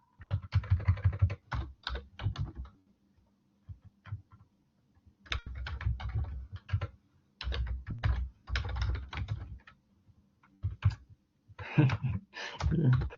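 Typing on a computer keyboard comes in several bursts of rapid clicking keystrokes, close and clear, with short pauses and quieter gaps between the runs.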